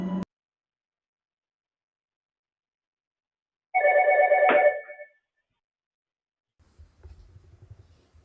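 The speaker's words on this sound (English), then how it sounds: "Soon after, a phone rang inside the house" Telephone ringing inside a house: one ring burst of about a second with a clear tonal warble, preceded by silence, followed by faint low rumble.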